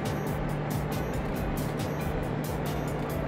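A loud, steady diesel engine roar with a constant hum and rumble, rising as the Rapid Mie train pulls away from Nagoya Station.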